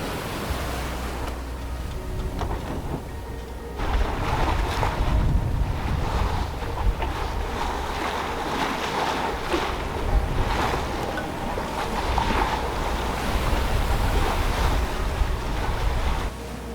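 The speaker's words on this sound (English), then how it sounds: "just enough wind to let the sails do their work and keep us moving steadily along" A sailboat moves steadily through ocean waves in the Gulf of Alaska under light wind. Continuous wash of water and rushing wind noise swells slightly at times.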